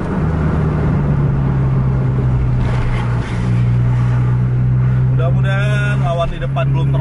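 Racing bus engine at full throttle in a video game, a loud sustained drone with steady low hum running throughout, a commentator speaking over it.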